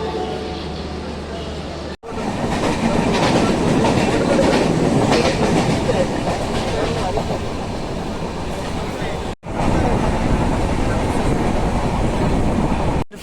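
Metro and suburban trains running through Pune station, with loud continuous rumbling and rhythmic clickety-clack of wheels over rail joints across the whole stretch, broken by two short cuts, as a voice talks faintly beneath.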